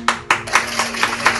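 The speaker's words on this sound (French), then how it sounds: "on applaudit le Premier ministre" Several people clap for the Prime Minister in a short run of sharp, fairly close claps with an irregular rhythm and no talking.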